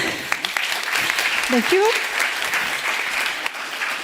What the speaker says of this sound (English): So a big applause for Irene.